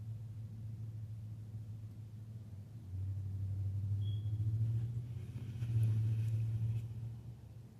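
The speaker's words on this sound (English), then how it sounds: "That vehicle is making circles." A vehicle circles at a distance, its low engine rumble swelling and fading as it passes nearer and then draws away.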